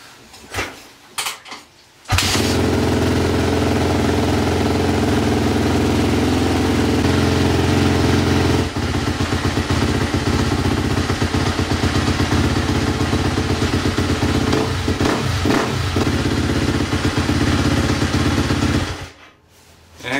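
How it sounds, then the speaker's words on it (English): A 2014 Yamaha YZ250F dirt bike engine kicks over after a few clunks, then runs at a loud, steady idle with a rattling chug before cutting off with the kill switch. "Now that we got the bike put back together, we can fire it up."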